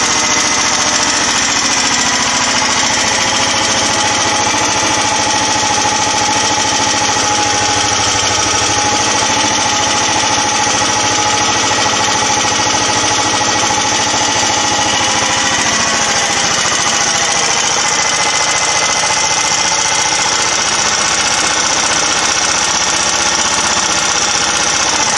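A faulty 13-horsepower small engine runs continuously at steady speed, loud and close, with a rattling, buzzing drone and no voices.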